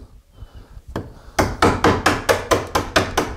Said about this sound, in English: I've got both hands to work the chisel and the mallet